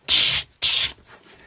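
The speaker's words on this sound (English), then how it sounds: "Getting my money's worth out of the sandpaper." Sandpaper rubs along the edges of a vintage white SG guitar in two quick, close, scratchy strokes, then a fainter third pass.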